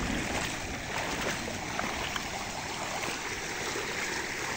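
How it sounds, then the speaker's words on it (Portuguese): Rushing water from heavy rain flows steadily through a swollen rural stream in Bahia, Brazil, a constant broadband roar with no pauses, fairly close and loud. "Lá vem a água, galera."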